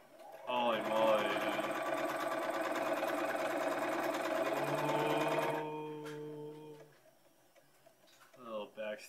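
Sewing machine stitching a long seam, a loud steady whirring run with rapid ticking that stops abruptly midway, then quieter handling noises and brief talk near the end.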